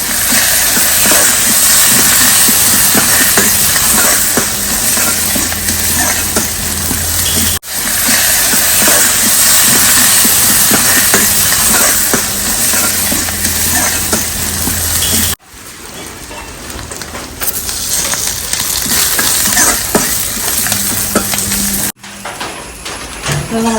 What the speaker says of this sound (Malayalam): അപ്പോൾ ഇതാ കടുക് വറവിടാൻ പോവുകയാണ്.